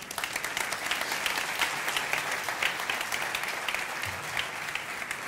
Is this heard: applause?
yes